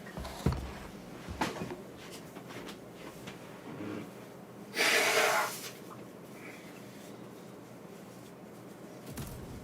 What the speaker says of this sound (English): I had to blow my nose.